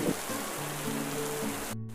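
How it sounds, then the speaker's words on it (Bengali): Heavy rain pours during an evening storm as a steady, dense hiss that fills the whole clip, with low sustained tones running beneath and a brief drop-out near the end. "সন্ধ্যার পরপরই শুরু হলো প্রবল ঝড় আর বৃষ্টি।"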